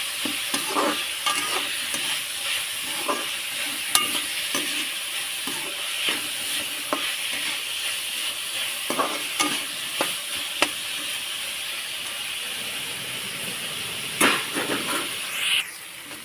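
Maggi pasta cooks in a pan with a continuous sizzling hiss, while a spoon stirs through it in repeated scraping strokes and occasional sharper knocks against the metal.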